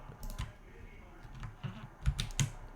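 Computer keyboard keys pressed for a Control G shortcut while working in Illustrator, a few separate clicks scattered through the clip, close and moderately loud.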